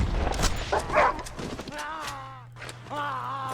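A wolf pup in the Red Dead Redemption 2 video game whimpers and cries in high, wavering tones after low growls, heard up close with a steady game hum beneath.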